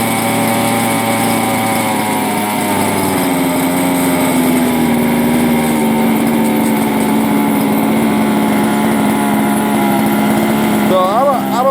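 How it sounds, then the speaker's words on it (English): A King Motors X2 RC car's small gas engine buzzes loudly and continuously, its pitch shifting as the throttle is worked, a near, high whining drone with a brief rise near the end. "Messing with the throttle on the controller."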